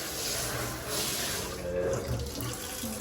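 Water gushes from a tap in a new home after a button is pressed, a steady, close hiss of flowing water that lasts throughout, with faint voices now and then in the background.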